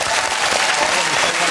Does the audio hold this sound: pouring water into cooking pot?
no